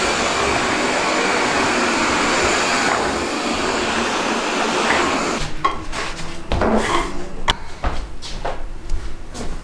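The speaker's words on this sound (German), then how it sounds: "hat gerade eben noch kurz gesaugt" A vacuum cleaner runs steadily in a shared office for about five seconds, a loud continuous whoosh, then cuts out and is followed by scattered knocks and handling clatter.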